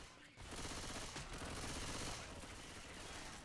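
Shotgun fire breaks out in a Left 4 Dead style versus match, a dense, loud stretch of gunshots that rattles on continuously for a few seconds with no speech.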